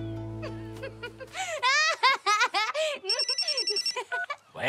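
A telephone rings in a home where children are stacking stools, its tone pulsing near and clear before high, excited children's voices break out over it.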